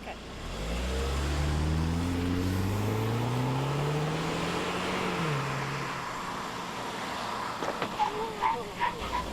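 A Saab car accelerates quickly on a driving course, the engine climbing through the gears in a loud rising roar, then fading away, followed by scattered clicks and a brief voice.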